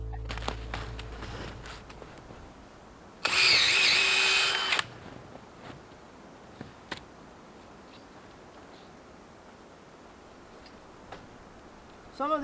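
A power drill bores a tap hole into a tree for a spout, a loud steady whine lasting under two seconds close by, followed by faint ticks and footsteps outdoors.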